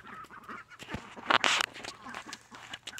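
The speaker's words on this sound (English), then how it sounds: "Here's the baby ducks." Baby ducks in a garden give a brief burst of loud, raspy quacking calls amid rustling, with a person talking nearby.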